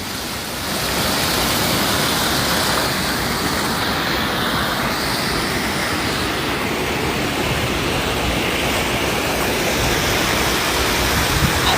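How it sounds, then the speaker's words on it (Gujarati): Water pouring continuously into the Bhogavo river, a loud, unbroken broadband rush that holds steady from start to end with no voices. "કન્ટિન્યુ આ પાણી જાય છે"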